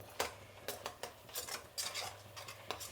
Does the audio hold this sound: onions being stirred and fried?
yes